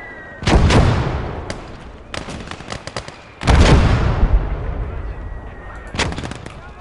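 Gunfire and artillery from the World War II strategy game Gates of Hell: Red Star Rising. Heavy booming blasts roll and echo, mixed with bursts of rifle and machine-gun fire, loud and continuous with no speech.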